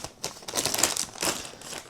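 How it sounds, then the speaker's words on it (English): A plastic zip bag from a portable car accessory kit is handled and opened up close, with several bursts of crinkling and rustling separated by short pauses. "So there's a zip bag."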